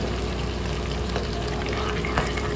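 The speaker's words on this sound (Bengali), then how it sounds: "এই পেঁয়াজ বেশি ভাজা যাবে না।" Onions frying steadily in a pan for chilli chicken, a dense, continuous close sizzle and crackle at even loudness, with one brief sharper pop near the end and no talking.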